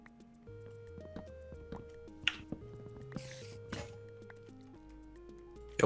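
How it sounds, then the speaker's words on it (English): Water flows down a waterfall in the Minecraft video game, heard as soft dripping and trickling over a steady background of stepped musical tones, with a faint voice. "The waterfall has begun to flow."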